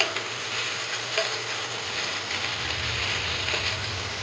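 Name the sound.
hilsa fish frying in oil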